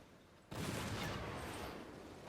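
A ship's cannon volley in the pirate game Assassin's Creed Black Flag: a sudden loud blast after half a second of quiet, then a sustained rumbling roar of overlapping booms that slowly fades.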